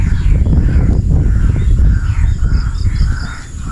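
A pet bird named Bagwis calls in a series of loud, close, raspy caw-like cries repeating irregularly over a low rumbling background.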